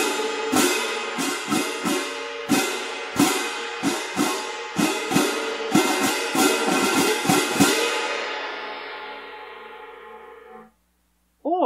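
A pair of crash cymbals brushed softly together again and again, about a dozen gentle shimmering strikes in a steady rhythm, then a long fading ring before a brief sound at the end.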